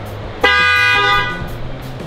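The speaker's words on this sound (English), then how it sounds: "Let's do a honk real quick." A Tesla car horn, triggered remotely, gives one loud steady honk of nearly a second, close by, after a short quiet lead-in with faint background noise.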